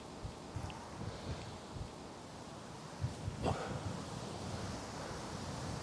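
Steady wind blowing across an outdoor disc golf course, a constant low rushing roar with soft gusts and light rustling, picked up close to the microphone.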